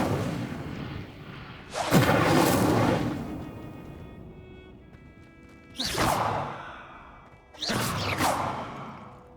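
Three bursts of the Incendio fire spell in Hogwarts Legacy, each a loud whooshing flare with a roaring tail, spaced a few seconds apart with quieter gaps between.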